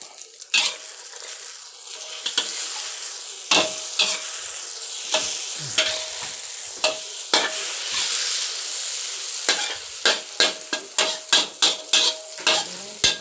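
Chicken basil stir-fry sizzles steadily in a hot wok while a spatula knocks and scrapes against the metal in sharp clanks, quickening into a rapid rhythm near the end.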